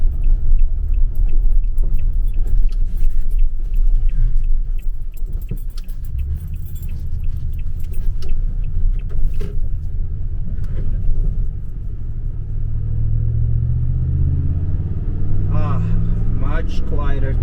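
A vehicle towing a trailer rolls along paved Sheehan Road with a steady low rumble and road noise, keys jangling throughout; a person speaks over the drive.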